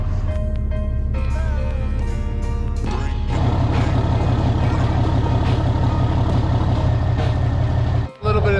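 A diesel truck engine, a Ford Excursion, cranks and starts after preheat, then settles into a loud, steady rumbling idle.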